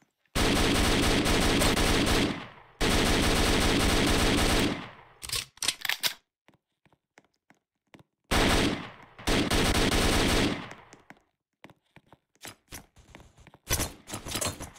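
Gunfire in the Roblox game Liberty County: long, loud bursts of rapid automatic fire in two sustained volleys, each followed by scattered single shots and short crackles, no talking.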